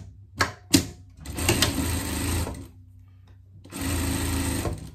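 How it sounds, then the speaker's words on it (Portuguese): A sewing machine stitching a seam on a sweatshirt fleece hood, with two quick clicks and then two bursts of rapid close mechanical whirring separated by a pause. "aqui, o nosso capuz, a gente vai passar uma costura aqui"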